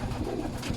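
Pigeons cooing in a loft, a continuous low, soft murmur of several birds close by filling the whole short moment without any talk.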